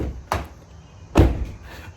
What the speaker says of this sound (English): that's the door in the beginning